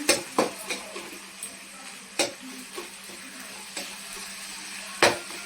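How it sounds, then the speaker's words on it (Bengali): Potatoes fry in a pan under a soft sizzle as a metal spoon stirs them, with a run of distinct clinks and scrapes against the pan at irregular intervals. No one speaks. "এরকম 2-3 মিনিট আলুটা ভাজতে হবে।"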